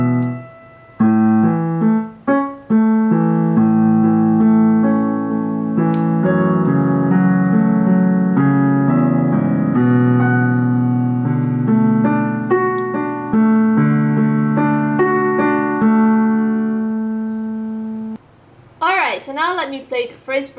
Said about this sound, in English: So the second time you play the introduction, it sounds like this. I'm gonna play it slowly for you.